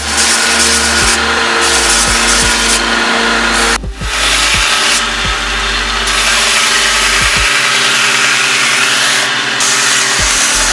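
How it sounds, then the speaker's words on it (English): A belt sander with a 120 grit belt runs continuously while a wooden axe handle is pressed against it, a loud steady motor whine with repeated scraping surges as the wood touches the belt, no talking. "now that we have polished the handle up to 120 grit on the belt"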